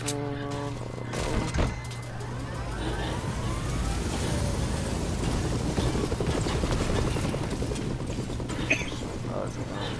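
A video game helicopter whirs loudly and continuously through the whole stretch, joined by engine and vehicle noise, with players' voices talking over it.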